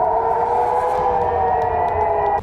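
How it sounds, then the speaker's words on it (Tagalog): An air raid warning siren in the Middle East sounds a loud, steady wailing tone that holds unbroken throughout, with no voices over it. "lalo na kapag umalingaw-ngaw na ang sirena"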